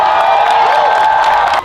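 A crowd cheers and whoops at a peace rally in Washington D.C., a dense, loud wash of voices held steady before cutting off abruptly.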